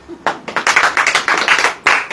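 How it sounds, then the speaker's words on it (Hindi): An audience at an evening church meeting claps hands in a quick, steady run of sharp claps lasting about two seconds after a brief pause. "ताली बजाइए।"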